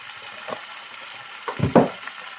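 Food fries in oil in a pan, a steady soft sizzle with a brief louder crackle and stir near the end, no voices.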